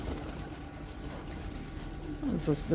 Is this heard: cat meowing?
no